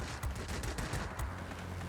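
Rapid, dense Hispano cannon fire from a British fighter in World of Warplanes, a loud continuous burst of automatic shots with a low engine drone beneath.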